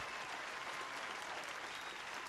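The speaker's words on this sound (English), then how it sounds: "Round of applause for that." Continuous crowd applause, a dense even wash of many hands clapping at a moderate distance, holding steady from start to finish.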